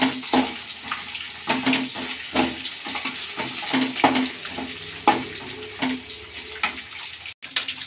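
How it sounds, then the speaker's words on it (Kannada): Peanuts, Byadgi red chilies and spices fry in a pan for raw mango chitranna, with a constant sizzle under repeated close scraping and stirring strokes. "ಚೆನ್ನಾಗಿ ಫ್ರೈ ಮಾಡ್ಕೊಳ್ಳೋಣ."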